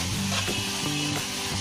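Mushrooms and kasuri methi cook in a pan with a close, steady sizzle and brief stirring scrapes.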